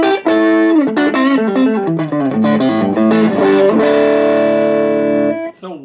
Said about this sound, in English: I'm not a big fan of ceramic pickups, but these sound pretty good.